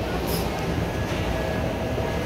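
A steady, loud rumble of an MRT train fills an elevated second-floor station, continuous wheel-and-motor noise with a faint high whine and no clear voices.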